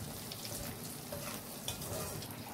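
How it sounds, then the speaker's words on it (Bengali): Dried red chillies and panch phoron frying in hot oil, a steady close sizzle with light stirring scrapes, continuous and fairly quiet throughout. "শুকনো লঙ্কা আর পাঁচফোড়ন দিয়ে দেব। তেলে দিয়ে হালকা একটু নাড়াচাড়া করে"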